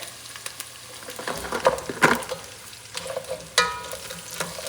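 Garlic soup with bread just added being stirred in a pot, with a spoon scraping and clinking against the pan in irregular strokes over a soft background simmer.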